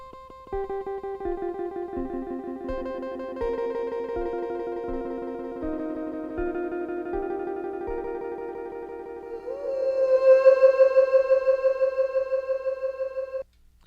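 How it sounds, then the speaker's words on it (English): Looped guitar notes layer and repeat with a delay effect, pulsing steadily and trailing into echoing swells that build, then cut off abruptly; no voices. "although it's an amazing delay, I mostly use in the loop setting to do trailing sounds like this."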